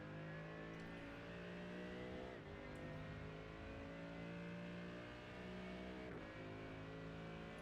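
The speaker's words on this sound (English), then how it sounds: "LMP2s are starting to come down pit road." LMP2 prototype race cars in iRacing at the Hungaroring, with a steady engine drone and two gear shifts that drop and climb the pitch. The sound is faint and continuous, and nobody speaks.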